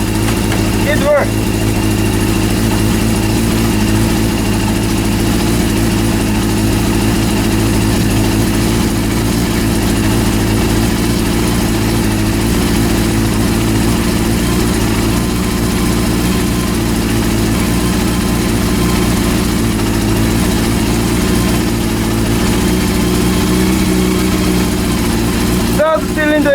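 A rebuilt Honda CB400 motorcycle engine runs steadily at idle throughout, a continuous loud low throb with a faint spoken voice near the start.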